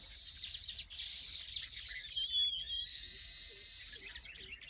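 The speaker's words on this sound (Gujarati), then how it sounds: "તો આ રીતના પક્ષી કિલોલ કરે છે અને ઘર એની માટે સરસ મજાનું બનાવે છે" Small birds chirp and twitter continuously while building a nest in a tree on a farm. Their bright, quick calls overlap and carry clearly over a quiet background, and no one speaks.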